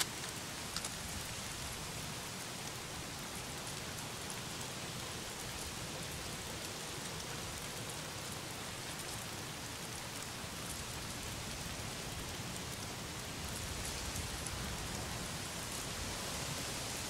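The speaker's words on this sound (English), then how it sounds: "Damn rain. If it's not the freaks, it's the goddamn rain." Steady downpour in the video game Days Gone, dense hissing rain pattering on surfaces throughout, even and unbroken with a slight swell near the end.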